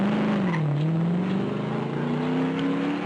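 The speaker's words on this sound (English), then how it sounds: "the car is sent back onto the track" A race car at the 1968 Bathurst 500 pulls back onto the track after a radiator refill, its engine note dipping and then climbing steadily as it accelerates away, loud and continuous with no talk.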